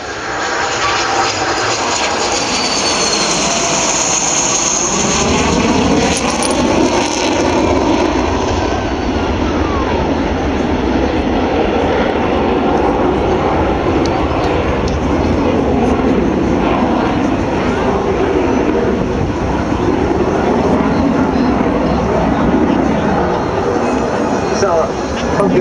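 Loud roaring Hawker Hunter jet engine builds and sweeps past overhead in a sustained low pass, with a voice talking over the din.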